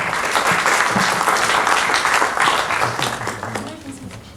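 Loud, dense applause from an audience fills an amphitheatre, sustained and close, tapering off slightly at the end as a voice begins underneath.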